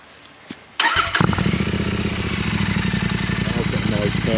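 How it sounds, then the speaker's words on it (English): After a quiet moment, a Royal Enfield Interceptor 650 motorcycle engine cranks and fires up abruptly, settling into a loud, steady rumbling idle close by. "Yeah, I'll start her up."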